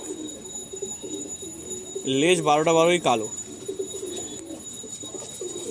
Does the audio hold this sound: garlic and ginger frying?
no